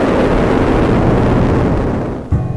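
An explosion rolls out as a loud, dense roaring rumble that fills the whole stretch, thinning slightly before a final low thud near the end.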